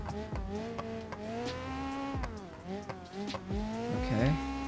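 A dune buggy in a video game race revs through repeated rising and falling engine pitches as it shifts and corners, with squealing tires near the end, loud and close.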